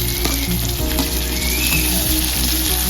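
Onion, tomato and sweet corn frying in a pan for pasta, a loud dense sizzle hissing steadily with occasional stirring scrapes and light clinks, close and continuous.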